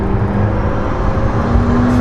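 A McLaren P1 hypercar's engine runs in its standard mode, a loud, close, steady motor rumble with a sustained tone and slight rises in pitch, heard without voices.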